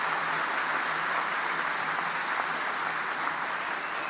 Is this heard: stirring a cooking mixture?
no